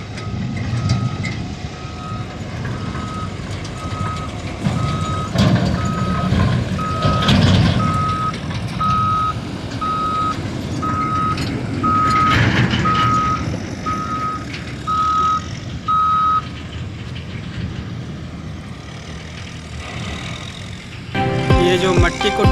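A road construction machine spreads soil on a roadbuilding site, its regular reversing beeps sounding for about fifteen seconds over heavy diesel engine rumble and clatter.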